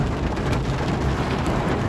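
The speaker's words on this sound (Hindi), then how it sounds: "बारिश हो रही है, बारिश अपना काम कर रही है" Steady, dense rainfall pouring down continuously in Bareilly, India, a broad hiss of drops striking surfaces with no voices.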